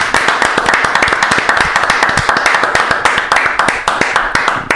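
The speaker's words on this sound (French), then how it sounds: "On peut les applaudir?" An audience at a quiz show applauds continuously, a dense, loud stream of hand claps close by, steady throughout with no pause.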